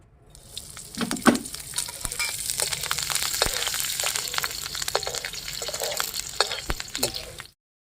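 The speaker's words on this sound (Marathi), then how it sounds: "आता त्याच्यात आपण मिरची भाजून घेऊया." Green chillies fry in hot oil in a pan over a wood-fired stove, a loud, steady crackling sizzle with sharp pops and spits, heard close up throughout and cutting off abruptly at the end; no talking.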